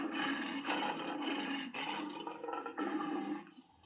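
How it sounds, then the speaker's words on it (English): A lion roars loudly and close, a long rough, throaty roar in several surging pulses that fades out at the end, with no talking. "So the lion is roaring"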